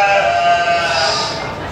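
A sheep bleat sound effect punctuates a comedy routine, one sustained, wavering bleat that starts loud and fades slightly over under two seconds.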